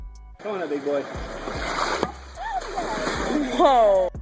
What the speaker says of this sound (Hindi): देखा आपने कैसे इस मगरमच्छ ने हवा में इतनी ऊपर छलांग मार ली